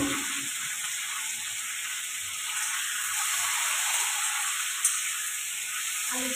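Baby potatoes sizzle steadily in hot oil, a continuous close hiss and crackle with no talk over it.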